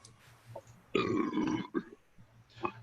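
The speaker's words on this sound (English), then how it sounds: "That was quite the burp there, whoever that was" A loud, drawn-out burp breaks through a video call, a rough guttural belch lasting under a second amid faint background murmurs and soft voices before and after.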